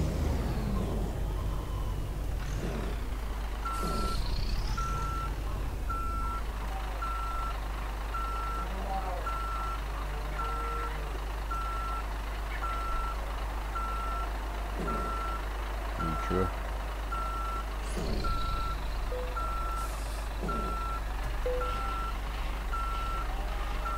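Truck reversing beeps while a Volvo FH16 540 parks a trailer in Euro Truck Simulator 2, evenly spaced steady beeps over a low idling engine hum, with occasional brief voice and air hiss.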